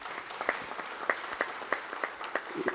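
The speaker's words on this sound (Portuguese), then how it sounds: "Uma salva de palmas também." Scattered audience applause at a municipal week event on the defense and protection of life, with sharp individual claps standing out irregularly over a thin, moderately quiet patter of hands.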